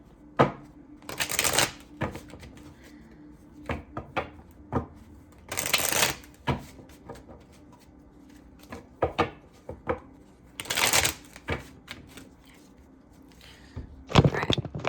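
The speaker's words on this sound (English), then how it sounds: "still want me to shuffle" Tarot cards being shuffled by hand in repeated bursts of riffling and rapid tapping, with quieter soft card handling between the bursts, close and fairly quiet.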